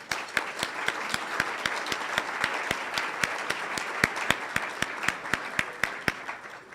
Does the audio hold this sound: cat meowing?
no